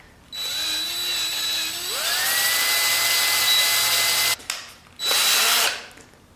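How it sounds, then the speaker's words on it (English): A power drill whines up to speed and grinds steadily through metal on a 1967 Chevy C10 Stepside truck, stops briefly, then spins again in a short burst before winding down. "That was a little bit more drilling than reaming"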